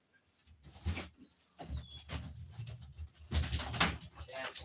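Puppies come in through a door, with a dog's whimpers, scrabbling paws and door or key clatter in a busy close burst, broken by short quiet gaps.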